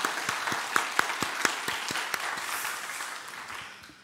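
A church congregation applauds the Susanna choir during a Children's Sunday service, a moderate wash of clapping with distinct individual claps standing out early, gradually fading toward the end.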